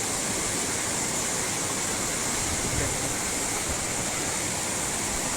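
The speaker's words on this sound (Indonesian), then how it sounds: "cukup banyak ditemukan pemirsa air terjun. Salah satunya air terjun Degian ini." Degian waterfall in a coffee plantation area of Empat Lawang, a loud, steady roar of falling water that fills the whole stretch, close by and with no voices over it.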